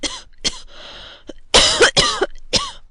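A person coughs in a short series of harsh, close bursts with brief gaps between them, loud and alone without speech.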